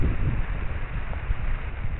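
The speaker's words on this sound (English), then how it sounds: "Damn wind." Wind buffets a microphone outdoors on church property, giving a continuous low, rough rumble that swells and dips over two seconds.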